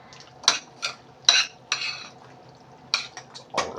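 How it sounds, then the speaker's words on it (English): Spoon or spatula scraping and clinking in a pan as baked pasta is mixed with sauce, a few separate close stirring strokes with quiet pauses between them. "Give that a stir"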